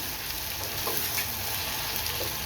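Mixed vegetables for a cooker vegetable pulav sauté in a pan over a normal flame, a dense, even sizzle and crackle close by with faint stirring, no voices.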